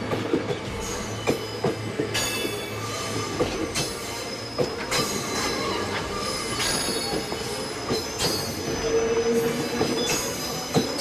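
A train starting with loud metallic wheel squeal, sharp screeching bursts over a continuous rumbling clatter of rail cars, sustained throughout.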